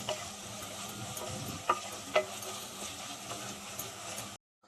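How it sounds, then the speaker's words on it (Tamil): Ginger garlic paste sautéing in oil for tomato rice, a constant close sizzle with faint stirring scrapes and two sharp clicks midway, cutting off to silence at the end. "இப்போ இஞ்சி பூண்டோட பச்சை வாசனை போகிற அளவுக்கு நல்லா அந்த எண்ணெயிலே நல்லா வதக்கி விடுங்க"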